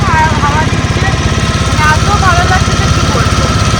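A boat's generator engine on Chilika Lake drones steadily with a rapid low chugging throughout, loud and close, with a voice talking over it.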